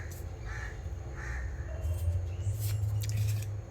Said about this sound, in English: if you can hear the birds.